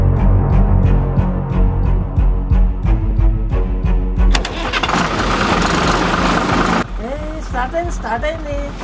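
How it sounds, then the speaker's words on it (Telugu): A vehicle's engine cranks with rapid repetitive pulses, then catches and roars into a steady running rumble while people talk nearby. "స్టార్ట్ అయింది బండి."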